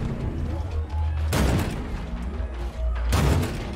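Robot battle gunfire in War Robots Frontiers, two loud heavy bursts of booming shots landing about two seconds apart over a low rumbling engine drone.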